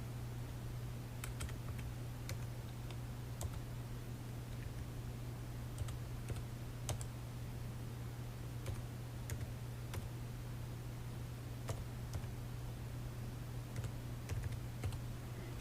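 A card number typed on a computer keyboard, with quiet, irregular key clicks in short runs over a steady low hum, and no one talking.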